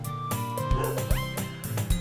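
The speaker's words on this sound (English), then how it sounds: "Charlie appears to be barking outside" Charlie the dog barks and yips outside in short, sharp bursts, several spaced barks with whimpering tones, heard at moderate distance over quiet game music.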